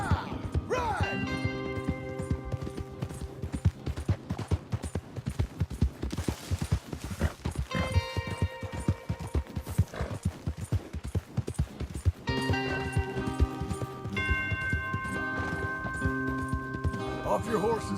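Horse hooves clip-clop in a steady galloping rhythm in Red Dead Redemption 2, with music and voices over the riding.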